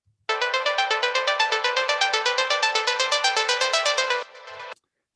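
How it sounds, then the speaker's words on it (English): A modular synthesizer plays a soloed blip sequence of rapid, evenly pulsed bright tones forming a fast repeating pattern, then a brief quieter tail before it stops. "there is this synthesizer blip. It came from a modular synthesizer"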